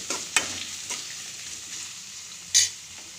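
Onions frying with capsicum in a pan, a low continuous sizzle broken by a couple of sharp spatula taps against the pan, close and fairly quiet.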